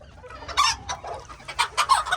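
A black rooster and hens cluck in a farm coop, a series of short throaty clucks in quick irregular bursts, close and fairly loud with no talking.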